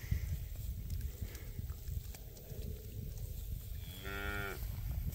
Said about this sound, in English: Some nice looking cows here.